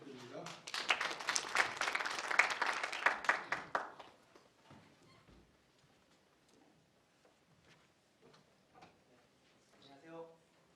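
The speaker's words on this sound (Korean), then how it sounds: "큰 박수 부탁드립니다" A short round of applause from a conference audience, loud clapping for about four seconds that quickly fades into quiet room tone.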